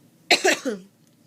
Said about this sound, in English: I know I've been coughing a lot.